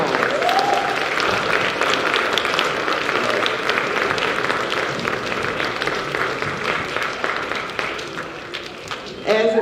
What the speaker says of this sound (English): give our creators of the assembly and all of our performers a round of applause